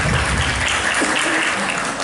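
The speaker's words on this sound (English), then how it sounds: "Please give her an applause." Audience applause at a national English presentation contest, a dense steady wash of many hands clapping, loud and continuous across the whole stretch.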